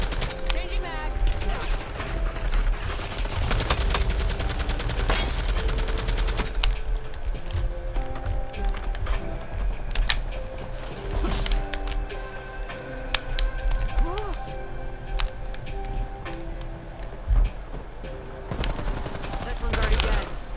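Rapid bursts of automatic gunfire and single shots ring out almost nonstop in a Call of Duty Black Ops 7 Zombies match, with voices talking underneath the shooting.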